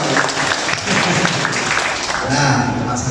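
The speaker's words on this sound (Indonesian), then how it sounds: "tepuk tangan dulu untuk NextDev sekali lagi" Audience applause for the NextDev team at an Indonesian digital startup industry event, a steady wash of clapping that continues throughout with some voices mixed in.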